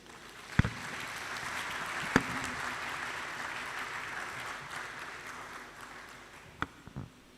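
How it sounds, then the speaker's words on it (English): Audience at a medical doctors' induction and oath-taking ceremony gives sustained applause, a broad even wash of clapping with a few sharp louder knocks standing out near and at the end. "Can we do that applause one more time, please?"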